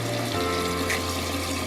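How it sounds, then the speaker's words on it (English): Cold tap water runs steadily over freshly cooked eggs in a kitchen sink, a continuous close hiss and splash with no talking. "I'm gonna put them under some cold water and cool them off just a little bit."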